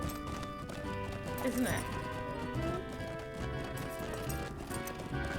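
Horse hooves clip-clop in the LOTRO online game, a steady rhythmic patter under game music and a voice talking over them.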